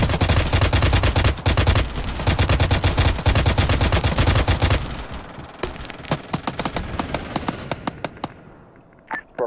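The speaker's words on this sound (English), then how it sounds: "So you hear that 50 cal firing." A .50 cal machine gun in Arma 3 fires loud sustained automatic bursts, dense and rapid for several seconds before thinning into scattered shots and trailing off.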